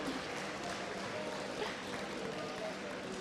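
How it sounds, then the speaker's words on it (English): Steady applause from an esports crowd at DreamHack Summer 2013, a dense even wash of clapping that holds at a moderate level throughout. "Let's give them one more big round of applause."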